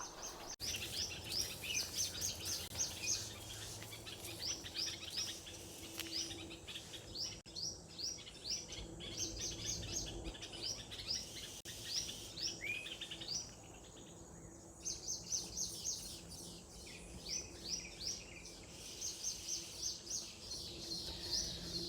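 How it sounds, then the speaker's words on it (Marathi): Several birds, including bulbuls, sparrows and weaver birds, chirp and call repeatedly in the distance, overlapping bright trills and tweets in an outdoor setting, with faint insect hum underneath. "माझ्या पाठीमागे बुलबुल"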